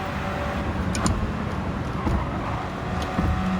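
A racing car engine in Gran Turismo 7 is revved out in fourth gear, giving a steady, droning road roar that stays even and fairly loud throughout.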